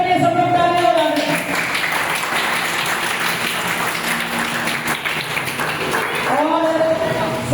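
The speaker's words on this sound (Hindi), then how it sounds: "तो एक बार सर के लिए सब लोग ताली बजाएं।" An audience at a freedom and sacrifice celebration event applauds, a sustained burst of many hands clapping that swells in the middle and fades, with amplified speaking voices before and after it.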